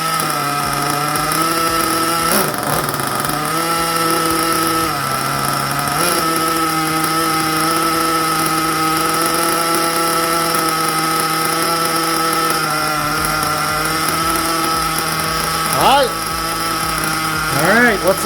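Nitro engine of an HSP Lacerea RC car running steadily during break-in, propped on a box outdoors, a constant buzzing drone that dips briefly a few times and revs near the end.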